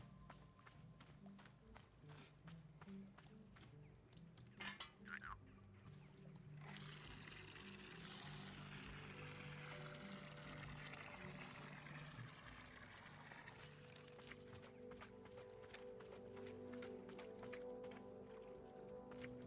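Water pours steadily for several seconds while refilling in the Wanderstop video game, after soft footsteps and light clicks, with gentle background music throughout.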